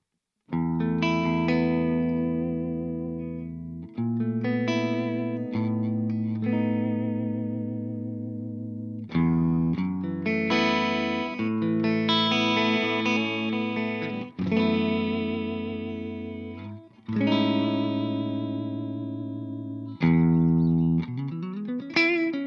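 Electric guitar through a Laney Lionheart or Ironheart Loudpedal overdrive plays sustained chords and notes with a gritty, distorted tone, each strum ringing out before the next.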